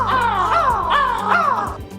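People imitate a crow's caw with their voices, giving three or four loud, close, harsh caws in quick rhythmic succession.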